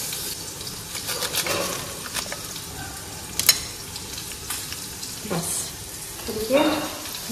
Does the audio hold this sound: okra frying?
yes